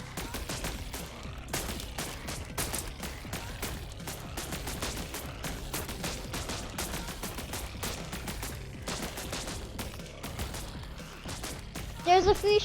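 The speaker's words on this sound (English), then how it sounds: "There's a few shots." Gunshots in the video game Buggos, where humans fight sentient bugs: a dense, steady barrage of rapid shots rattling continuously for over ten seconds at moderate loudness, with a louder burst near the end.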